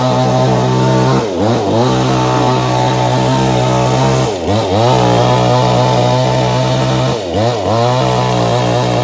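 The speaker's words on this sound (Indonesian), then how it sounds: "Menggergaji" A chainsaw roars loudly close by while cutting wood, its pitch dropping three times as the chain bites in and then rising again, with no talking.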